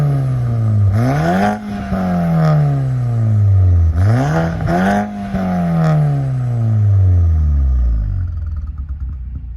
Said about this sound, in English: I'll give it a little rev of both cars